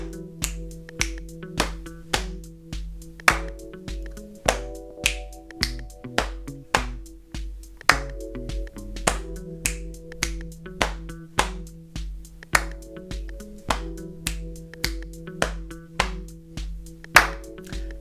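Body percussion clapping pattern repeated four times in a row at a slightly quicker tempo, crisp claps and snaps in a steady looping rhythm over low slaps, close and alone with no talking.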